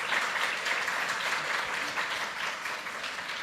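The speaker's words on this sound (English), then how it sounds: "the panelists deserve a very, very hot round of applause" Warm, steady applause from a conference audience for the panelists, a dense wash of many hands clapping at moderate loudness, even throughout.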